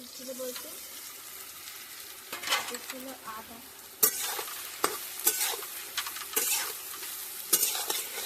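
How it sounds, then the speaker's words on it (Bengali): Soybean chunks coated in salt and turmeric tipped into a hot wok, a quiet start giving way to louder crackling frying with repeated sharp spatula scrapes and clanks against the metal. "এবার আমরা নুন হলুদ মাখানো সয়াবিনগুলো ঢেলে দেবো কড়াই এটা"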